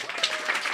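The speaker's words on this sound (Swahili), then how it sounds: "Makofi kwa wazazi wenu" A short burst of crowd clapping at a vocational college graduation ceremony in Tarime, applauding the graduates' parents, dense and even at moderate volume.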